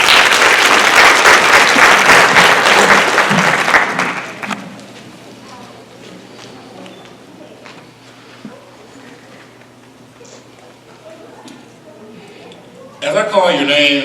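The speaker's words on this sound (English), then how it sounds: "give them a round of applause." Audience applause at a school district Martin Luther King Jr. program, a dense, loud burst of clapping for about four seconds that drops away to quiet room murmur, then a brief swell of clapping returns near the end.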